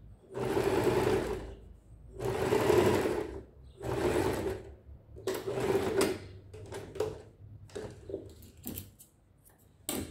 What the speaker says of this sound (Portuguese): E aqui, rente à borda de montagem, eu tô passando um pesponto.